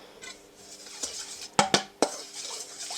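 Baking soda and water being stirred in a container, a few sharp clinks and scrapes of a utensil against the vessel close by, over a quiet background with no talk.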